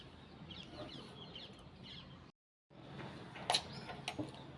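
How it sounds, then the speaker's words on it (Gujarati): Sparrows chirp outdoors in sunny weather, a scatter of soft, quick chirps at moderate distance. There is a brief silent gap partway through, then a few sharper calls. "અને ચકલીઓના અવાજ પણ હોય."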